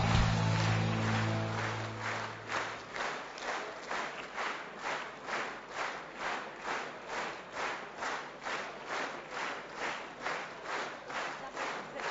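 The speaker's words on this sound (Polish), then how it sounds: "Wielkie brawa!" Audience applause at the SLD national party convention in Sosnowiec, greeting Martin Schulz, candidate for head of the European Commission. A crowd roar fades into sustained clapping that settles into a steady rhythmic unison clap for about ten seconds.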